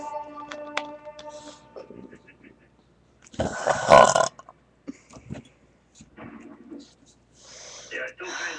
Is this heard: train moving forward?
no